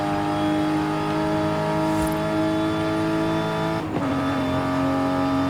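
A 1993 Nissan Skyline R33 in a Forza Horizon 5 road race, its engine droning at high revs with a steady tonal whine, a brief shift or impact dip near the end, then pulling on, loud and continuous without speech.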